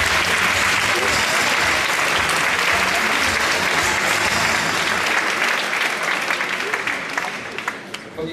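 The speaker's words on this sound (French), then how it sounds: "sous vos applaudissements" An audience at a graduating class naming ceremony applauds warmly, a dense roar of many hands clapping that holds strong before tapering off toward the end, with some voices mixed in.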